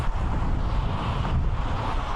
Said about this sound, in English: Just very, very windy here